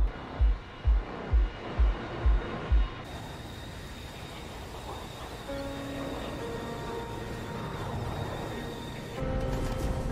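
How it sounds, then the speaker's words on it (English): Steady airplane engine drone in a War Thunder game, a continuous mid-level roar lasting most of the clip after a few rhythmic thumps at the start, with tonal shifts toward the end. "ASMR plane noises."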